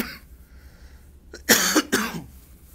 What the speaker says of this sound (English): told you I was coughing.